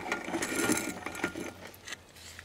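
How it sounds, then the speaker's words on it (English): A hand ratchet backs off the wheel bearing nut on an Isuzu, giving a quick run of close, light clicking bursts that trail into scattered ticks. "you can just back this nut off"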